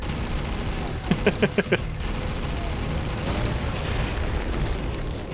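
Dynamite stick blast in the Dragon Sector remake video game, heard as a short burst of four or five rapid pops over a constant game background drone, with a speaking voice present.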